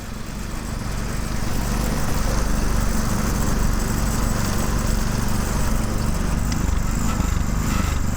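Two lawn tractor engines, a Cub Cadet LTX 1040 and a custom 6.5 horsepower tractor, drone loudly and steadily close by while racing, a constant low mechanical rumble that swells slightly after the first moment.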